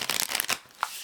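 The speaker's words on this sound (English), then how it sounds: "I have found that this one is very easy to shuffle" Starseed Oracle tarot cards being shuffled by hand, a quick burst of papery riffling and flicks lasting about a second, close and moderately loud.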